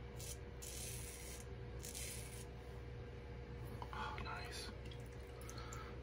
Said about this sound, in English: I love that audio feedback with this razor